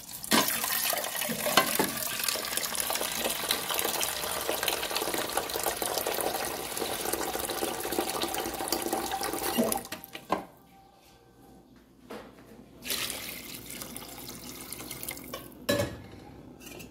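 Tap water pours steadily into a pot for a ground beef and vegetable soup, close and hissy for about ten seconds, then stops, followed by a few brief splashes and clinks in a home kitchen.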